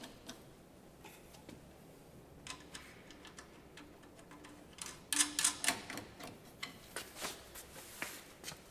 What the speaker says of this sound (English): Take my 10mm socket wrench again, tighten up those 4.